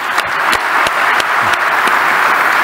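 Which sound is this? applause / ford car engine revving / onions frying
applause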